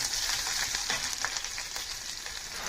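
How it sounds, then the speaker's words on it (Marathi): Curry leaves and finely chopped green chillies sizzle and crackle in hot oil for a potato bhaji tempering, a steady close frying hiss with scattered pops and stirring, no voices. "हे चांगले तडतडले की यामध्ये कढीपत्त्याची पाने टाकून त्यापाठोपाठ बारीक चिरलेली हिरवी मिरची टाकून चांगलं परतून घ्यायचं आहे"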